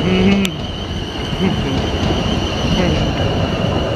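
An electric SWR Class 450 passenger train departs Basingstoke at close range, a continuous loud roar with a high electric whine running throughout.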